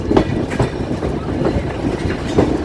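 The Chitra Express, bound for Dhaka from Khulna, rolls into Joydebpur Junction on line three with a steady, loud rumble and rhythmic clatter of wheels on rails, close by.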